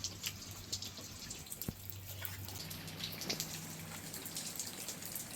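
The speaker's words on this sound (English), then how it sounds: "It's raining." Soft, steady rain falls outdoors and drips from a roof overhang, with scattered irregular drops tapping nearby over a faint low hum in an otherwise quiet, peaceful setting.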